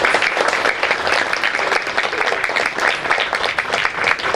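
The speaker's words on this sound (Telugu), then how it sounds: "ఒక్కసారి గట్టిగా చప్పట్లు కొడుతూ" Sustained audience applause after a dance performance at a temple cultural program, dense steady clapping from a large crowd that holds at an even level throughout with no break.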